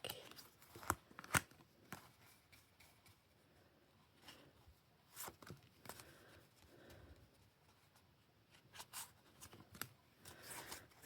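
Quiet, intermittent riffling and rubbing of a small deck of oracle cards being shuffled by hand, with soft scattered flicks and taps, close up and faint, no voice over it.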